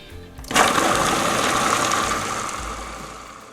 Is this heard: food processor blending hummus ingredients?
yes